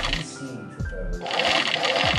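A sewing machine stitches a velvet strip in uneven bursts of whirring and rapid needle clatter, close up, with brief pauses between runs and a voice talking over part of it.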